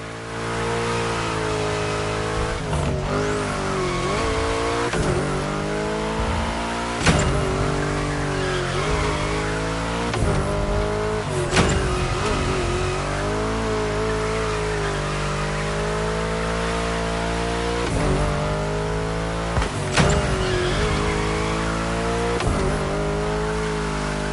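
Car engine droning and rising and falling in pitch in the video game Rocket League, with repeated sharp thumps and brief tire squeals over a continuous loud whine.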